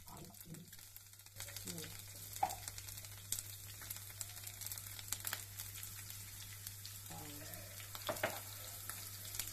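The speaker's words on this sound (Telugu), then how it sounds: "సన్నగా తరిగిన కరివేపాకు, 3 లేదా 4 పచ్చిమిరపకాయలు, మినపపప్పు, ఆవాలు, జీలకర్ర వేయాలి." Curry leaves, green chilies, urad dal, mustard seeds and cumin frying in oil, a faint continuous sizzle with scattered crackles and pops and some stirring clatter.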